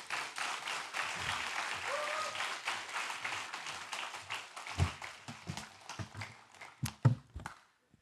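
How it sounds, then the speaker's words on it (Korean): A church congregation claps in welcome as a missionary comes forward, a dense roomful of applause that holds steady, then thins into scattered individual claps and fades out. "나오실 때 큰 박수로 환영해 주시면 감사하겠습니다."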